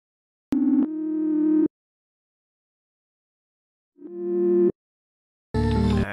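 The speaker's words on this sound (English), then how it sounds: "We have the sine wave synth." Pure sine-tone synth notes sound in three separated bursts, one swelling in, with silence between them and no voices.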